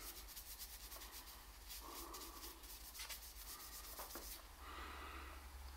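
Sandpaper rubbing over a restored beech wood slingshot, a faint continuous scratchy rasp in repeated strokes, close and alone throughout.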